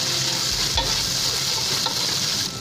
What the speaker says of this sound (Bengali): এবার আমি দিয়ে দিচ্ছি মাছগুলো দিয়ে আমি আবার একটু নাড়াচাড়া করব